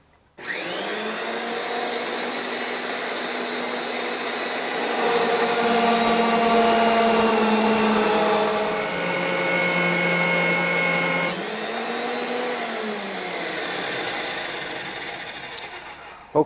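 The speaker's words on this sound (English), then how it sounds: "Put my machine in forward." A RIDGID 535M threading machine runs loud and continuous while threading a pipe, its motor whine holding steady, rising in pitch and load midway, then settling back near the end.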